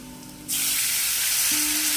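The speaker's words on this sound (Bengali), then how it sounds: "আলুগুলো আমরা লাল করে ভেজে নিয়েছি এখন দিয়ে দেব জল" Water hits a pan of reddish-fried potatoes and erupts into a loud, steady hiss and sizzle that starts abruptly and keeps going, close up, with no talk.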